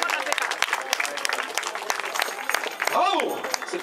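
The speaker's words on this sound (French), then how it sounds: "On peut applaudir très fort le podium" A crowd at a youth cyclo-cross race claps for the podium finishers, dense steady applause throughout with a voice on a loudspeaker talking over it partway through.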